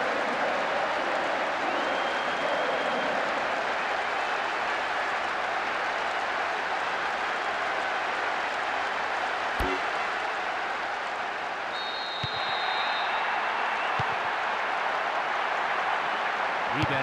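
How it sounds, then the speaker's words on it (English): Stadium crowd in the PS2 football game Winning Eleven 2012, during Bayern Munich versus Inter Milan, a dense steady roar of jeering fans held at an even level throughout, with a few brief sharp clicks. "The crowd giving both manager and players some serious stick."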